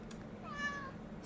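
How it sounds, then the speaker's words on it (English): A pet kitty cat, a female house cat, gives one soft, drawn-out meow close by, faint against a quiet room. "let me move the little kitty cat again"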